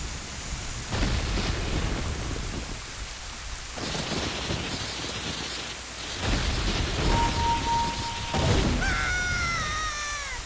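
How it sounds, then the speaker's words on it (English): A giant lightning bolt blasts open a tomb in Zelda: Ocarina of Time, with steady heavy rain, repeated rumbling thunder surges, and a rising chime-like tone near the end. "a giant lightning bolt will come down from the skies and blow up the tomb"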